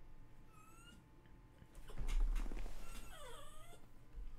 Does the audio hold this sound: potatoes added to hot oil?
no